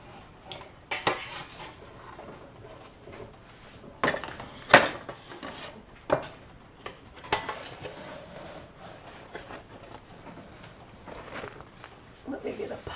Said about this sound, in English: I'm going to get the tray, the entire inner lining tray